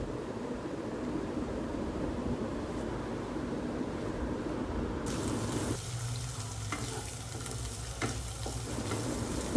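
Onion paste sautés in oil for prawn malai curry, a continuous close sizzle with scraping stirring that grows louder and brighter partway through, with no one talking.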